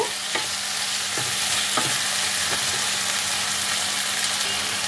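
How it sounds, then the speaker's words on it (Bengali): Chopped tomato stirred with spices in a frying pan for a potato curry: a steady, close sizzle of frying with a spatula scraping the pan every second or so. "এটাকেও এবার মশলার সাথে 2-3 মিনিট নাড়াচাড়া করে নেব।"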